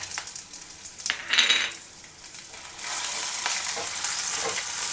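Green chillies and garlic sauté in a pan, with a close, steady sizzle, occasional stirring scrapes and a louder burst of frying near the start, no talking.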